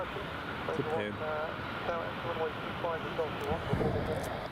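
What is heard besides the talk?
Embraer 170 jet aircraft after takeoff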